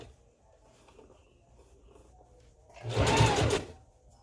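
A sewing machine stitches a hair weft onto a closure wig, a short loud burst of motor whirring rising near the end after quiet handling noises.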